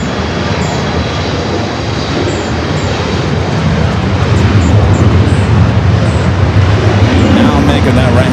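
A jet airliner taxis at Los Angeles International, turning onto a taxiway, its engines giving a loud, steady rumble that thickens partway through, with radio chatter and talk over it.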